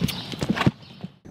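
Hooves of Gemlik breed horses clip-clop on a hard surface in a quick run of several near, clear strikes, with a short whinny-like sound and no talk, fading to quiet at the end.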